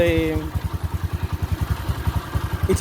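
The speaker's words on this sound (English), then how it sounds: "if I start my motorcycle by using a Kickstarter" A 2020 Bajaj Boxer X150 motorcycle engine chugs in a steady rapid rhythm after being kick-started, close by, with a brief voice at the very beginning.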